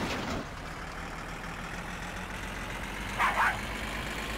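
A car engine in the video game My Summer Car drones steadily while driving, a constant low hum with a brief higher rasp near the end.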